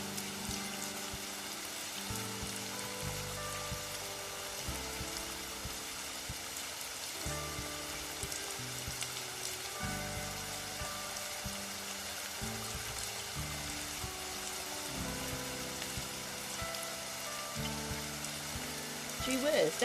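Steady rain drizzle ambience from a ghost-themed romance video game, a soft continuous hiss of falling drops under a quiet, slow background music loop, faint and even throughout.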